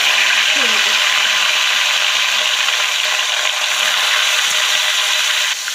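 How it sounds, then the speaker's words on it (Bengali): Two pieces of fish fry in hot oil with a loud, continuous crackling sizzle that holds steady throughout, with no talk. "এই যে এখানে 2 পিস মাছ ভাজা চলছে।"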